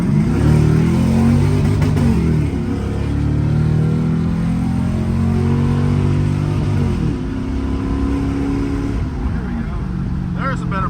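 An old Lexus fitted with a Chevy engine pulls hard under acceleration, its loud, droning engine note rising and shifting through gears up close from inside the car, with someone talking over it.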